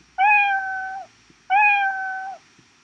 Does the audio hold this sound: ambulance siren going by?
no